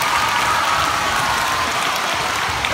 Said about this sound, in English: Let's give them a big round of applause, everybody.